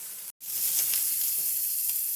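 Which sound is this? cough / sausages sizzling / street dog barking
sausages sizzling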